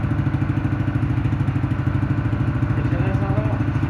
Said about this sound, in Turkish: Motor güçlü geliyor.